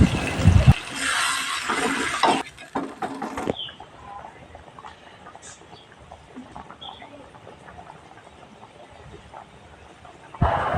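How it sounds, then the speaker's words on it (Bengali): Water poured into a pot of slow-fried chicken curry: a loud, close rushing splash for a few seconds, then a quiet low bubbling, and another burst of pouring right at the end. "এখন দিয়ে দিচ্ছি পরিমাণ মতো জল দিয়ে বেশ কিছুক্ষণ ফুটিয়ে নেবো"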